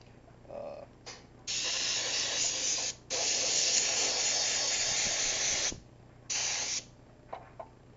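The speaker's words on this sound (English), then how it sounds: "That's all the liquid mask being sprayed in there." A spray gun sprays liquid mask for RC body painting, in three long hissing bursts of a few seconds each with short pauses between them, plus a couple of brief puffs, close and fairly loud.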